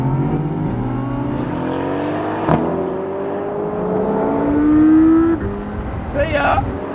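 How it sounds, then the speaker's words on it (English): Sports cars including an AMG GT C, Audi R8, McLaren 570S and BMW i8 Roadster accelerate at full throttle from a rolling start, engine notes climbing through gears with a brief shift crack, close and loud under voices. "we're going to floor the throttles and go"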